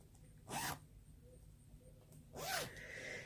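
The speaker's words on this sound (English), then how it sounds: "I picked out the teal zipper." A teal zipper on a sewing project bag is zipped twice, each a quick rasping pull, the second longer, close and fairly loud against a quiet room.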